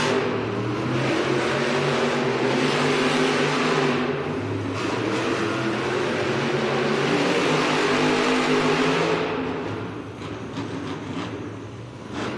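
Monster trucks, including El Toro Loco, race side by side in an indoor arena, engines roaring loud and steady with revving surges, easing off near the end.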